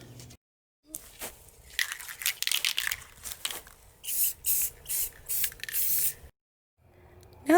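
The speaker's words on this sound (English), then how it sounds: "put it around your threads before you spray" Spray paint hisses from an aerosol can onto a threaded pipe, in a series of short, close bursts separated by brief pauses and light handling noises.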